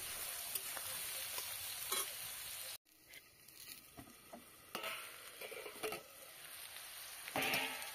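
Green beans with turmeric and ginger fry in a pan on an open rooftop, pressed down as they cook, producing a soft continuous sizzle with scattered stirring clicks and a brief dropout partway through.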